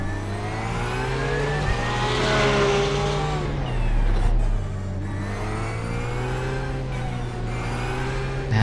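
A GT3 race car in iRacing rolls into the pit lane with its pit limiter engaged, the engine holding a steady, loud, buzzing drone with slight pitch dips and no talking.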